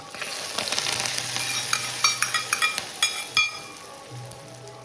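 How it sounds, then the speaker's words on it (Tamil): Curry leaves are dropped into hot oil with browned onions for a Nagercoil-style fish curry, giving a close, steady sizzle with a run of sharp crackles and pops in the middle. "இப்போ கருவேப்பிலையை போட்டுக்கலாம். நல்லா பொரிஞ்சிட்டு குழம்புல விட்டுக்கலாம்."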